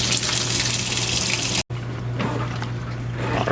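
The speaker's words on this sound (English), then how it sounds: "So I'm going to let this go ahead and fill." A Maytag MVWP575GW commercial top-load washer fills with water in a loud, steady gushing rush, broken by one brief dropout before the pour resumes, with a constant low hum beneath.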